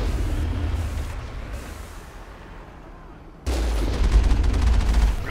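Gunfire in the video game Mass Effect against Rachni enemies, a low rumbling barrage that eases off mid-clip and then bursts back in louder with rapid repeated shots, a voice faintly present underneath.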